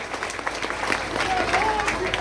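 Crowd applause at a village gathering in Gorakhpur honouring the chief guest, the Chief Minister, a dense steady clapping wash heard throughout, fairly loud and close, with voices mixed in.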